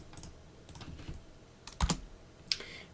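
Someone types commands on a computer keyboard to restart a local service. A few soft, scattered keystrokes and clicks are close by but quiet, with a couple of sharper taps standing out.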